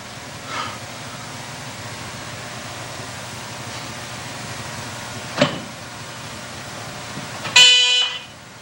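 Car horns honking over a quiet background hum: a soft short beep near the start, another brief honk midway, then a louder, longer blare near the end.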